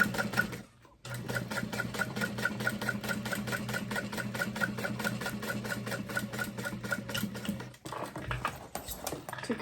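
A sewing machine stitches steadily through a binder cover near an added pocket, a fast, even mechanical rattle running close and loud for most of the stretch, with a brief pause near the start and another late on.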